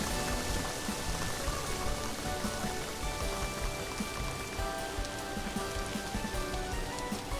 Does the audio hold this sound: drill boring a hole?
no